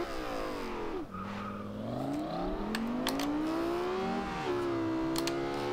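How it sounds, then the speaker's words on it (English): A loud, high-revving V10 engine of a 2010 Lexus LFA in the video game Forza Horizon 2 climbs through the gears with brief dips at each shift, a continuous roar with a hint of tire squeal. "let's line it up here and just see how fast this V10 will push us"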